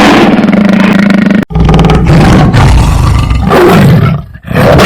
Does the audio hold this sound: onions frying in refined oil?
no